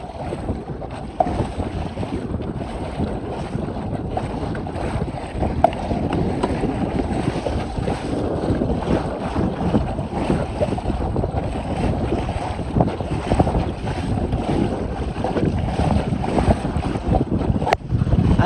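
A motorized kayak driven by a Newport electric motor pushes through choppy lake waves, with a continuous rush of water splashing against the hull and heavy wind buffeting the microphone throughout.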